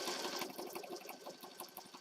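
A sewing machine stitches around an element on a junk journal page, a steady close whir with rapid, even needle ticks running throughout, no voices.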